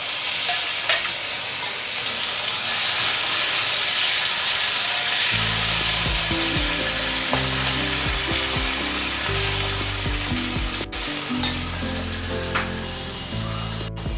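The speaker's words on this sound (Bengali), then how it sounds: "চিনির সাথে টমেটোটা দিলাম, কালারটা খুব ভালো হবে।" Half a tomato and sugar hit hot oil in a pan for an egg curry, sizzling and frying loudly and steadily, with stirring scrapes breaking in partway through.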